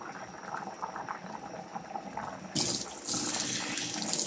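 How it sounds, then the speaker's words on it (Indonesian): Coconut milk is poured into a simmering fish curry, a bubbling, sizzling cook that turns into a louder rushing pour of liquid partway through, close by, with no talking. "sekarang kami yang masuk santannya."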